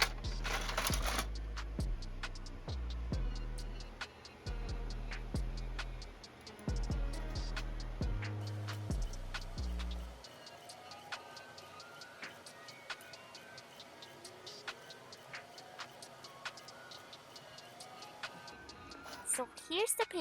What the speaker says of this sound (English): So now I'm going to feed the US letter paper into the tray and then click print.